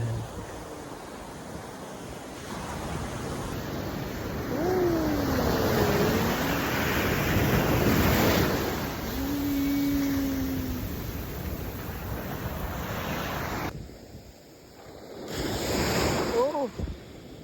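Ocean surf on Serenity Beach in Pondicherry, a steady broad wash of breaking waves with wind buffeting the microphone, swelling and easing over the clip, with faint voices and a brief tonal sound in the background.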